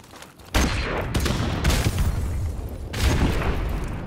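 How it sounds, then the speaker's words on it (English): Grenade explosions in Modern Warfare Remastered on the Backlot map: several loud booms in quick succession, with heavy blasts and rumbling debris over gunfire. "That's a bunch of nades."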